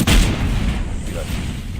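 A tank's main cannon fires a shell in a medium-tank battle game, one loud boom at the start followed by a rumbling tail that fades over the next second or two.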